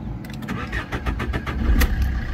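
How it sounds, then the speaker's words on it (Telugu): A 2013 Maruti Suzuki Swift Dzire VDI cranks briefly and catches on a single start, then settles into a close, steady diesel idle with a slight rise in revs. "ఒకసారి ఇంజన్ స్టార్ట్ చేస్తున్నా చూడండి"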